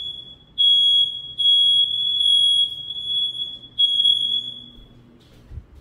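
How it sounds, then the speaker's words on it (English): A household smoke alarm during Hurricane Helene sounds a piercing, high-pitched tone in several long bursts with brief gaps, loud and close, before stopping. "And it triggers my smoke alarm to go off."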